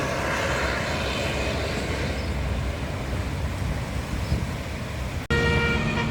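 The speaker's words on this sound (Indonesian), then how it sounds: "Terdengar suara basuri bergelora pulang dari Masjid Al-Jabar" A bus's telolet musical air horn (basuri) blares loudly and steadily near a toll gate. Its sustained tones sit over heavy engine and traffic rumble, then cut off abruptly as a new horn phrase starts.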